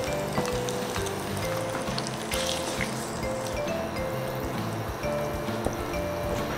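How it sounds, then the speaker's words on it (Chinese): Marinated pork hits hot oil in a wok already fragrant with a garlic clove or two, giving a steady, close, watery crackle that runs without a break, with faint music underneath. "热锅烧油，放入1-2粒蒜爆香。 倒入腌制好的猪肉"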